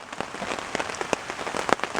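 Hail at a campsite on a canoe trip in Algonquin Park rattles off a surface in scattered sharp ticks and taps, close by and without voices.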